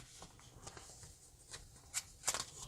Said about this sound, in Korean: 한 번 더 접어주고 반대쪽도 선에 맞춰 접어줍니다